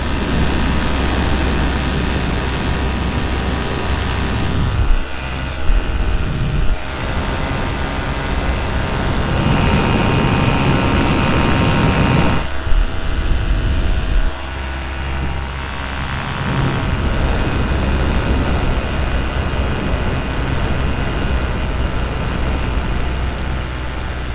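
A paramotor engine drones steadily and loudly in flight throughout, with a rough, slightly uneven hum and wind rush, dipping briefly at moments.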